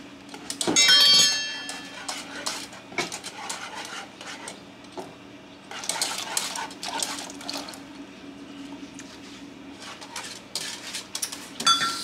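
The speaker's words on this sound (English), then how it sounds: "Stir it in real good." Milk being stirred into ice cream custard in a pot: a spoon scraping and clinking against the pot with soft liquid sloshing, close and moderately loud, in irregular strokes with no talk.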